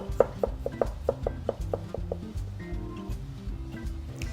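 A knife slices garlic thinly on a cutting board, about ten quick, evenly spaced chops in a steady rhythm that then trail into lighter, scattered cuts. The chopping is close and clear, with no talking.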